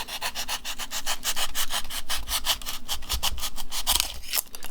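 A knife cuts back and forth through the edge of pink foam, giving quick rhythmic rasping strokes, close and moderately loud, with no talking.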